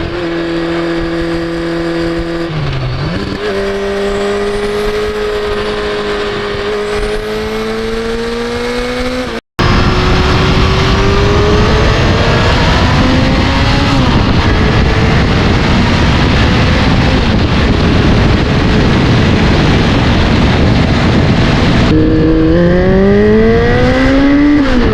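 A Yamaha XJ650 Turbo motorcycle pulls hard through the gears, its engine note climbing steadily, dropping briefly at each shift and climbing again, loud and close with a steady rush of wind and road noise and no voices.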